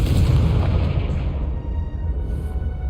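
A Confringo fire spell explodes in Hogwarts Legacy on PS5, a loud booming blast that starts strong and rumbles as it slowly fades over a few seconds.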